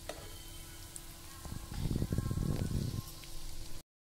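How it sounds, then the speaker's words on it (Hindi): Chicken nuggets fry in well-heated oil over a medium flame, giving a soft, steady sizzle that swells into a busier crackle midway, then cuts off abruptly. "मीडियम तेल को अच्छा गरम कर लेके मीडियम फ्लेम पे तलना"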